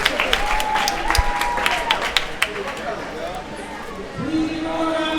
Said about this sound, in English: Please give a round of applause for Ethan Brown